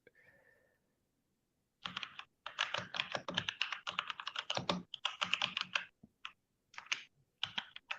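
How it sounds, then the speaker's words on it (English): Rapid bursts of typing on a computer keyboard, close and crisp, clattering in uneven runs with brief pauses, after a faint noise at the start. "Oh, man, I'm typing back to DJ"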